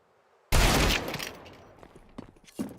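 A loud pistol shot bursts close and sudden in a Counter-Strike pro league match, ringing out and decaying, followed by lighter clicks and small movement sounds.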